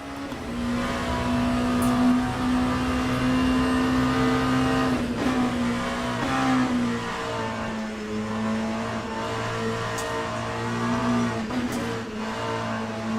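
A race car engine in the video game Le Mans Ultimate drones loudly and steadily, its pitch shifting as the revs rise and fall, with a few brief sharp clicks over the top.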